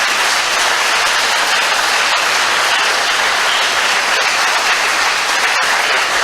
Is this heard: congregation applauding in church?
yes